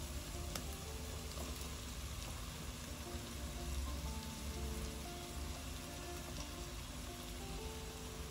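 Vegetables with ginger, garlic and tomatoes sizzle in a pan for a vegetable biryani, a steady, close hiss and crackle of frying that runs evenly throughout with no voices.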